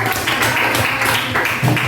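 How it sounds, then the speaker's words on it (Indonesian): A classroom audience gives a presenting group a round of applause. The loud, dense clapping comes from many hands at once and continues steadily for a couple of seconds, with no pause. "beri tepuk tangan untuk kelompok"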